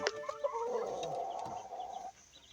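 Green-legged roosters and hens at a backyard poultry pen in the Philippines, with a clear clucking, crowing-like call rising early and a steady mid-pitched fowl vocalization continuing for about two seconds, close and fairly loud, no talk.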